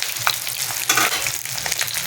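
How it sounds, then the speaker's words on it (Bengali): Steady crackling sizzle of vegetables frying in hot oil, close by, with brief louder pops and a faint scrape of stirring. "পটলগুলো ভাজা হতে থাকুক।"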